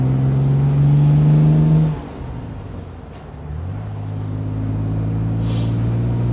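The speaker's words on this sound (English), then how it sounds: "So here we are on the farm road. The FFR going through the gears." A 1967 Aston Martin DB6 Volante accelerates along a farm road: the engine revs loud and high, drops sharply at a gear change, then builds again as it pulls through the next gear, close and unbroken by voices.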